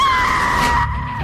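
A woman screams hysterically in fear, a loud, sustained, shrill cry that fills the whole moment with no other voices.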